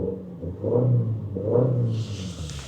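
Four-cylinder engine of a 2025 Toyota Tacoma TRD Pro rumbling in two short swells, heard close and fairly loud, with a hiss entering at the end.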